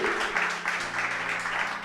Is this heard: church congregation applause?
yes